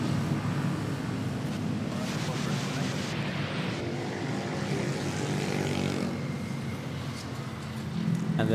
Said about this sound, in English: And then we have a takeoff over at runway 31 to Lawag.